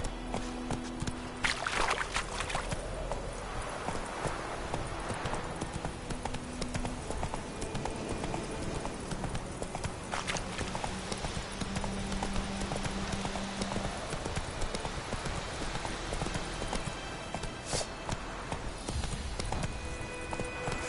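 In The Witcher 3 video game, the horse Roach trots with continuous rhythmic clip-clop hoofbeats, mixed with game ambience and occasional snorts, running steadily throughout.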